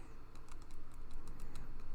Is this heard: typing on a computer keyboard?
yes